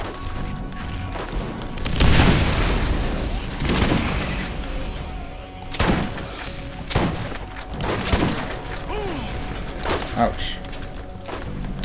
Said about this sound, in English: Did he just throw a grenade at us?